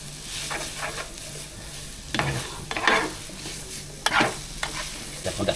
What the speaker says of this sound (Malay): Kacau balik.